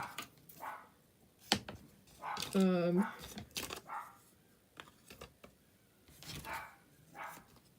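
A dog barks a few times in the distance, sharp bursts with one louder yelp, amid background rustling and faint clatter.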